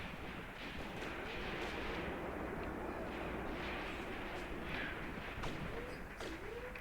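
Booming artillery-type blasts from on-map mortars in the Graviteam Tactics war game, set in Kharkov 1941, rolling under a dense continuous battlefield rumble with no clear individual reports.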